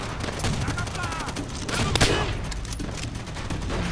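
Bursts of rapid gunfire from the Call of Duty: World at War video game rattle out in quick succession, fairly loud with a busy mix of battle noise and a brief voice in the middle.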